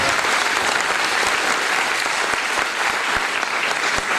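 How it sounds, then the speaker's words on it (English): A lecture audience in Kalimpong breaks into loud, sustained applause, dense clapping filling the space evenly from start to finish with no voices over it. "So can we have a big round of applause"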